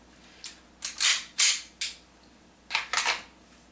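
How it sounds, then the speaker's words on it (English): Dry fire practice with an unloaded pistol: sharp mechanical clicks as the trigger breaks and the slide is racked to cycle the action, several close, crisp snaps in two clusters with brief pauses, no talking. "Cycle the action to simulate a round being fired. Gently let the trigger reset. As soon as it resets, break the next shot."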